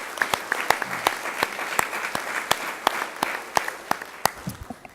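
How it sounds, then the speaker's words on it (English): Applause for student athletes at a school board meeting: a modest group clapping in a small room, with distinct individual sharp claps punctuating a thinner, steady patter. "let's one more time just give them a round of applause"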